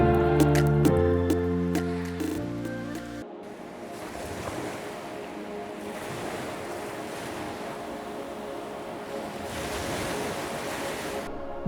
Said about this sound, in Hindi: मैं पहुंच चुका हूं उस ब्यूटीफुल वाटरफॉल में।